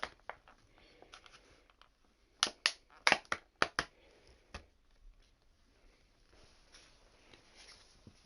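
Crunchy bites of salad chewed close to the microphone: a quick cluster of sharp, loud crunches in the middle, then fainter scattered chewing noises on either side.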